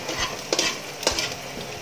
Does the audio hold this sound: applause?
no